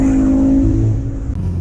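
A Volvo C30 with a modified exhaust revs loud and close, a steady deep engine growl that holds then eases off, with no talking.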